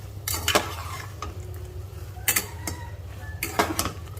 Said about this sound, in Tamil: இதை போட்டு கொஞ்சம் நல்லா மிக்ஸ் பண்ணுங்கள்.